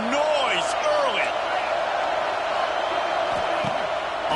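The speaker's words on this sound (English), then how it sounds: "This crowd bringing the energy and noise early." Stadium crowd at a college football game makes a steady, dense roar with scattered whoops, while a commentator talks over it.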